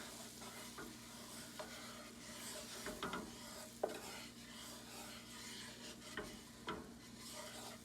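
Flour being stirred into a roux in a pot, a soft continuous scraping with scattered clicks of the spoon against the pan and a faint sizzle beneath.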